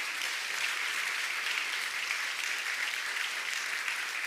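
A church congregation at a Sunday worship service gives a warm round of applause: dense, steady clapping from many hands filling the room evenly for several seconds, with no break.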